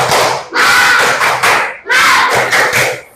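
A classroom of pupils doing a rhythmic spirit-clapping chant, loud bursts of group clapping and shouting in two close matching phrases with brief pauses between beats.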